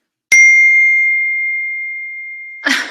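A single clear electronic notification ding rings out loud and close, its pure tone decaying slowly for about two seconds before a short rustle.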